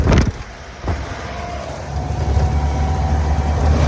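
A vehicle moving along a road on a trip to Jaisalmer, a steady rumbling engine and road drone with a couple of sharp knocks near the start.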